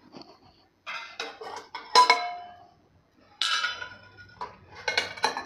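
A steel container is lifted out of a cooled pressure cooker holding a cooked ground-lentil mixture for besan, making several close metallic clanks and clinks in short bursts separated by quiet gaps.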